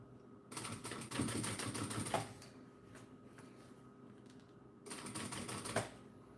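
A sewing machine stitches over the zipper seam of a clear vinyl pixie bag in two quick bursts of rapid mechanical clatter, the first about two seconds long and the second shorter, with quiet pauses between.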